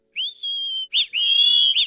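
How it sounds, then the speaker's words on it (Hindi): Whistle sample pattern in an FL Studio production of a Pahadi folk song, a loud, clean, close tone played as a sustained note and then a few short rising phrases. "इसमें से हम सीटी का एक पैटर्न ले लेते हैं।"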